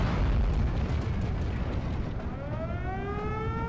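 Typhoon airstrike explosions in Steel Division Normandy 44 open with a heavy rumbling blast and fade into a long roar. A rising, siren-like whine enters near the end.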